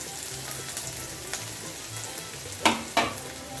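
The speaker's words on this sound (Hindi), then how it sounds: "इसको हम सॉटे कर देंगे" Onion and chili sauté in hot oil with a steady, close frying sizzle, broken near the end by two sharp stirring scrapes.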